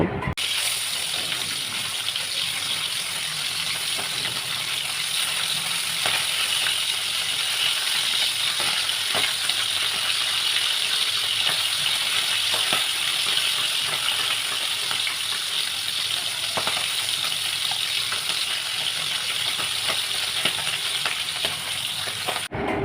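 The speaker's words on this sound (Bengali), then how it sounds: "একটু লাল লাল করে ভেজে নেব।" Tengra fish fry in hot oil in a wok with a steady, dense sizzle that holds close and even throughout, broken by faint scattered clicks and light rattles.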